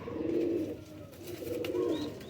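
Crossbred striped pigeon chicks coo softly nearby, with low repeated cooing phrases in a calm, quiet setting.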